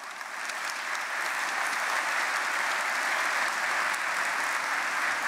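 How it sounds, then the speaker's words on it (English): Audience applause for scholarship winners at a student recognition ceremony, a steady wash of clapping from a large crowd that swells in and holds for several seconds. "I think they all deserve a round of applause."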